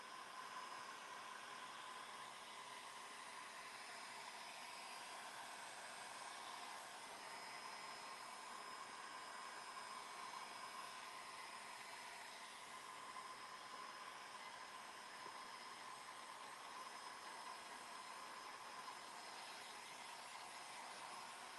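A hair dryer blows steadily on wet paint on a craft project, a continuous broadband whoosh held at an even, fairly quiet level throughout with no talking.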